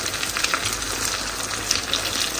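Egg frying in a pan, a steady close sizzle and crackle with a few brighter pops, running continuously with no talking.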